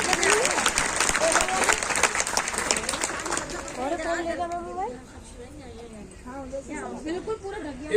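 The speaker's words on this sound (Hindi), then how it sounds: "थोक में ताली बजाएं।" An audience claps in a burst of applause at a welcoming gathering, dense and steady for about four seconds before a voice takes over and keeps talking.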